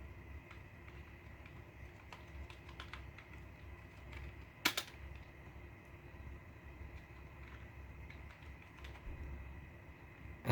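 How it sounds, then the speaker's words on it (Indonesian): Typing a command on a computer keyboard: soft, light key clicks tap out irregularly in quiet succession over a low background hum, with one sharper keystroke near the middle. "ketikkan perintah ipconfig spasi garis miring on"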